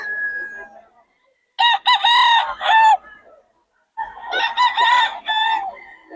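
A gamefowl rooster of the pumpkin sweater type crows loudly and close by in two long, ragged cock-a-doodle-doo calls separated by a short silence. A faint tone fades out before the first crow.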